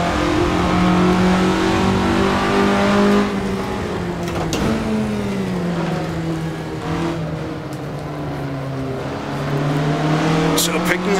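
A 1967 Russell Alexis Mk.14 Formula Ford racing car in the Assetto Corsa video game drones loudly and steadily, its engine pitch rising and dipping through gear changes with no break.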